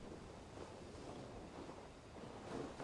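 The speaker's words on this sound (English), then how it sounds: "Windy. Storm coming." Steady wind and surf in a video game as a storm approaches, a continuous broadband rush of gusts and waves that holds even throughout with a slight swell near the end, no speech.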